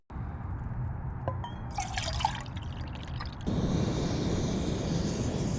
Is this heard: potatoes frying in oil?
no